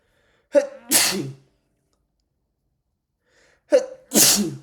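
Two sneezes, each a sharp intake of breath followed by a loud explosive burst, separated by a few seconds of silence.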